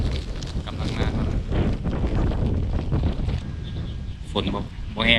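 Strong gusting wind and rain of a heavy rainstorm buffet an open fishing boat, a rough broadband roar with microphone buffeting; someone speaks over it, with a few louder bursts near the end.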